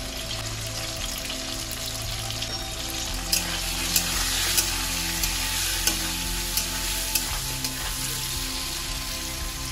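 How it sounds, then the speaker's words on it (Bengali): Cubed potatoes seasoned with salt and turmeric sizzle in hot oil, a dense, continuous crackle close by, with occasional sharp clicks of a utensil stirring and no voices. "নুন হলুদ দিয়ে আলুগুলো আমি লাল লাল করে প্রথমে আমি ভেজে নেব।"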